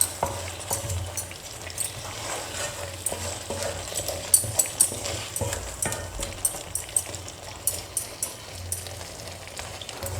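Chicken curry with pepper powder is stirred in a frying pan, a steady sizzle overlaid with repeated scraping and clinking strokes of a spoon against the pan, close and busy, with no talking.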